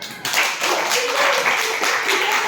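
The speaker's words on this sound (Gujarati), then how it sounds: "વેરી ગુડ તાળી પાડો" Children in a primary school classroom clapping their hands together, a dense sustained round of applause that rises sharply after a brief quieter start and stays steady and close.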